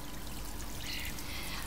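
A small garden pond fountain pump with an adjustable dome-shaped nozzle sprays water in a continuous soft splashing hiss that stays faint and steady throughout.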